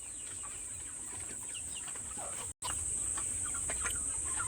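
Chickens cluck on a farm in scattered, irregular calls of moderate loudness over a steady high-pitched background hum, with no one speaking.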